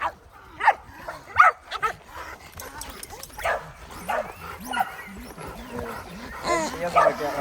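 Dogs bark, yip and whimper in bursts while playing together, close by, with a person talking over the commotion.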